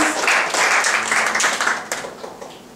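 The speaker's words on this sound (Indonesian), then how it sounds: "Tepuk tangan untuk Tuhan Yesus." A church congregation applauds, bursts of loud, dense clapping from a crowd that hold steady and then taper off toward the end.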